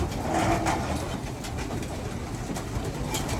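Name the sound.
birds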